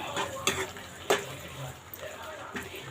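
Spoon stirring green chillies and masala powders through an egg curry in a pan, with soft scraping strokes and a few sharper clinks against the metal, over a faint background sizzle.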